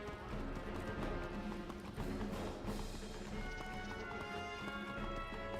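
Steady galloping horse hoofbeats clip-clop continuously from start to end in Wizard101, loud and close, with a brief whinny and game ambience mixed in.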